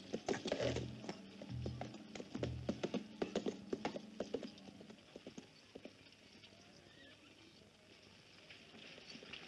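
Hooves clip-clop on a hard surface, a horse walking at a steady pace, the beats fading and thinning out toward the end.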